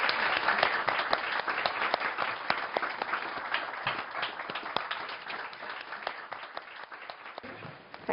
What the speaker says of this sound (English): if we can just have a round of applause in the meantime